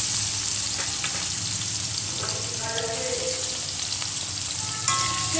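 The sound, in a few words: green chilli and chopped onion frying in hot oil in a wok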